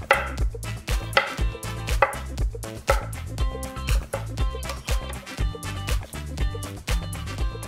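An onion being chopped on a board gives quick, sharp knife strikes in uneven bursts, loud and close, with brief pauses between runs of cuts.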